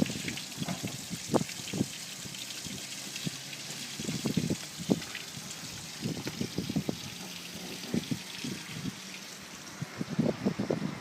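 Steady rushing water runs continuously from a hose turned on full while flushing a boat stern drive, with occasional knocks and clatters over the flow.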